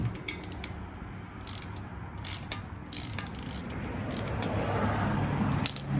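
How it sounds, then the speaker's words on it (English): Wrench working a 10mm nut loose on a Predator 212 engine during a teardown: close, quiet ratcheting clicks and metallic handling bursts scattered over a low steady background hum. "grab a 10mm, loosen this nut"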